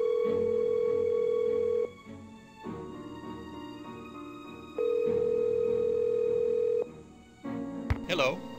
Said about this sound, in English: Let's make a quick phone call here.